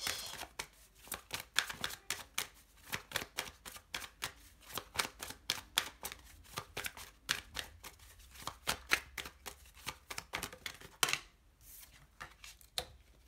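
Oracle cards shuffled by hand to draw an advice card, a quick rapid series of papery slaps and riffles lasting about thirteen seconds, close and quiet, with no speech.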